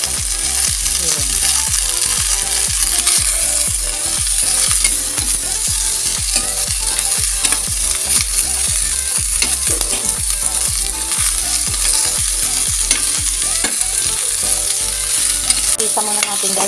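Sliced papaya and garlic sautéing in a pan, with a loud, constant sizzle and a regular rhythm of utensil scrapes and stirs throughout.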